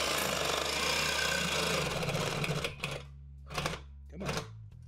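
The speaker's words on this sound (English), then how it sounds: "I'm gonna get as close to this factory weld on the tailpipe as I can with the Sawzall and just lop her on out of there." A Ryobi Sawzall with a short blade cuts through the tailpipe of a 1995 Ford Escort Wagon, a loud rapid buzzing rattle that runs continuously, then comes in three shorter bursts.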